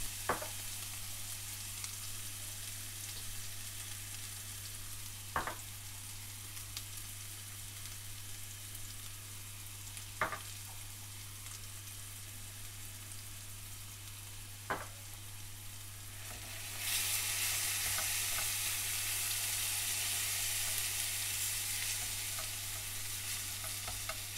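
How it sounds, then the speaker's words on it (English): Low steady sizzle of spices and sliced red chillies frying in a pan with a few sharp scraping clicks from stirring, turning into a louder, brighter hiss near the end. "stir through, frying for around 30 seconds"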